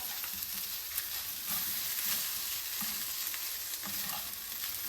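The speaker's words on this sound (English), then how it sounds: "while it's cooking, keep stirring it up." A plant-based spinach lasagna sauce sizzles and bubbles in a pan while being stirred, a steady close frying hiss with soft scraping strokes and no talking.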